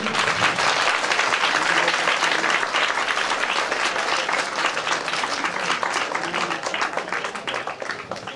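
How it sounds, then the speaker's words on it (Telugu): A large audience claps loudly and continuously at a public gathering, dense applause that stays strong and fades slightly toward the end. "గట్టిగా చప్పట్లు ఆగకూడదు"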